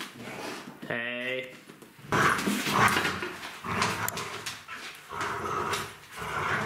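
Dogs growl and bark in play over a roll of toilet paper, with rough snarling and yips close by and a brief whine, while a person talks intermittently.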